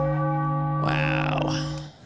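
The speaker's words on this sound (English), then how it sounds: "I don't know why I rang the bell there" A bell rings once and lets its tone hang before trailing off, heard during a Major League Baseball wild card broadcast between the Reds and Dodgers, over a steady hum.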